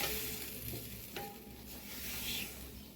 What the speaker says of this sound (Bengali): এটা এইভাবে তড়কা দেবো, হলুদ লঙ্কা দিয়ে তার ডালটা ঢেলে দেবো।